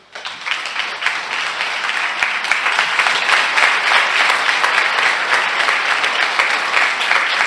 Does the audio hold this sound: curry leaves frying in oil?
no